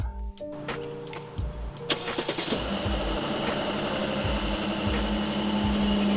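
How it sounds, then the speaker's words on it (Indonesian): A 2018 Mercedes-Benz GLE400 4MATIC AMG engine starts with a brief starter crank, catches, and settles into a steady, close idle hum that holds to the end. "Sekarang kita akan coba menyalakan mesinnya."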